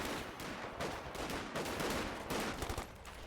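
Gunfire in the World War II strategy game Company of Heroes 2: a dense rattle of rifle and machine-gun bursts during a skirmish, continuous and moderately loud, with no talk over it.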